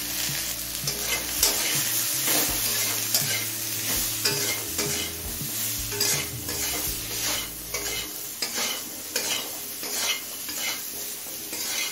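Mixed vegetables fry with slit green chilies, salt and turmeric for a vegetable matar dal, a steady sizzle broken by repeated scrapes and stirring strokes of a spoon against the pan, close and fairly loud, with no talking.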